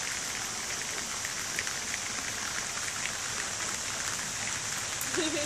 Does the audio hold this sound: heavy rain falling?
yes